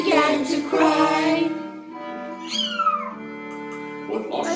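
A voice sings a drawn-out imitation of a cat's meow several times, melodic and close, with sung phrases around it.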